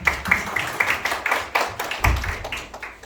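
A small church gathering breaks into clapping on a dark, gloomy day, a few distinct, uneven rows of hand claps close by, rhythmic and moderately loud, with no talk.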